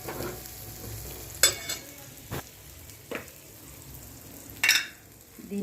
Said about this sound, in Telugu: ఇవన్నీ కొంచెం లైట్గా ఫ్రై చేసుకోవాలి, పూర్తిగా కుక్ అవ్వని అవసరం లేదు, లైట్గా ఫ్రై చేయాలి.